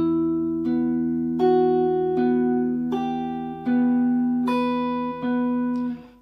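Electric or acoustic guitar playing the opening bar of a song, a steady series of sustained picked notes, about one every three-quarters of a second, close and clear with no talking.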